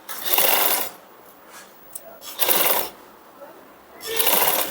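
A sewing machine stitches a princess-cut blouse in three short bursts of about a second each, separated by quieter pauses with faint clicks.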